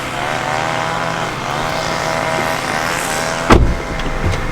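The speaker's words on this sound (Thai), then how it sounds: "รถคันนี้ผมสตาร์ทเครื่องไว้แล้วนะครับสตาร์ทเครื่องไว้แล้ว" A 2009 Honda City V sedan, front-end damaged, idling after a start, with a steady close engine hum and one sharp knock or thump partway through.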